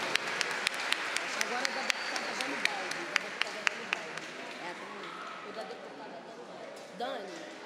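An audience at a formal ceremonial session claps in sustained applause, with sharp individual claps standing out over a dense crowd wash and talk underneath.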